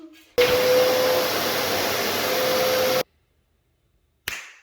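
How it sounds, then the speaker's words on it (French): A vacuum cleaner whirs loudly and steadily with a thin high whine for a few seconds while cleaning up after laying parquet flooring, then cuts off abruptly into silence before a brief burst returns. "je vais finir à l'aspirateur là"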